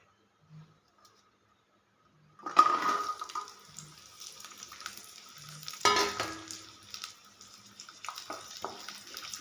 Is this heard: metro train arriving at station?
no